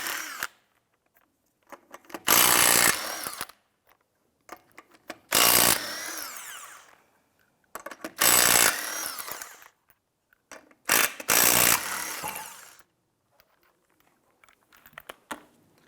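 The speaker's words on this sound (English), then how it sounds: "Using your 19mm socket, loosen and remove the 5 lug nuts." A 19mm socket on a power impact tool loosens and removes five lug nuts on a 2005-2007 Ford 500, in several loud, separate bursts with quiet gaps between them.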